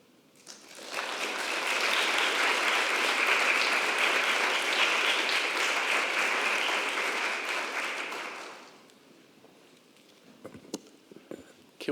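Worship service congregation applauding the youth, clapping swelling in after a moment, holding as a thick steady roar for several seconds, then fading away to quiet with a few scattered thumps.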